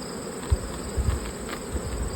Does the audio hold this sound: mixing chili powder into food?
no